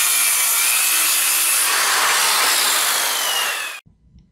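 A power saw rips through a live edge oak slab, trimming off its back edge in one loud, steady cut that runs for several seconds, then stops abruptly, leaving a brief faint knock.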